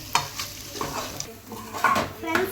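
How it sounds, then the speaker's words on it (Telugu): Egg curry with salt, coriander powder and spices is stirred in a pan, with quick scraping strokes of a spoon over a soft sizzle, close and fairly quiet, with no talk. "ఇప్పుడు బాగా మిక్స్ చేసుకోవాలి ఫ్రెండ్స్."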